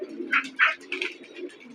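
Pigeons perched in a home loft and nearby tree coo in several distinct throaty bursts close by, with a low hum underneath and no talking.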